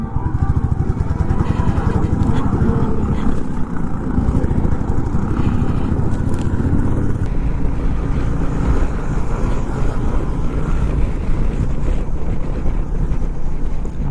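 A motorcycle cruises on the Yamuna Expressway during a long-distance ride from Delhi, its steady engine drone loud and continuous with heavy wind buffeting the microphone throughout.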